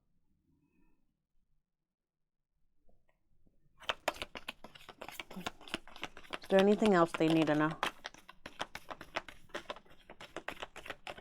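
Tarot cards shuffled by hand: patchy papery clicks and crackles, then a denser riffling flutter, close and fairly quiet, with a voice speaking briefly over it.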